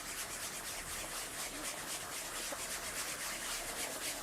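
Curling brushers sweeping the ice during a championship final, a steady, fast, scratchy brushing hiss that continues throughout, faint and somewhat distant, with no voices.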